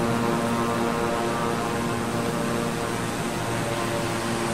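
Twin turboprop engines of a Beechcraft 350i King Air in Microsoft Flight Simulator drone steadily in the cockpit, a loud continuous hum with layered tonal whine and broadband rush that holds level throughout.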